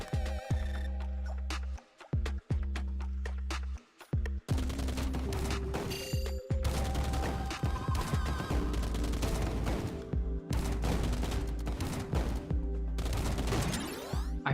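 Pistol gunfire in the NIKKE video game, with sharp, repeated shots cutting through a busy layer of game music and effects, first spaced apart and then coming fast and continuous.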